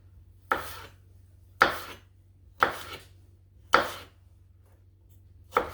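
Sharp knife chopping Granny Smith apples on a board, five crisp, evenly spaced chops about a second apart, close and clear against a quiet low hum, with no talking.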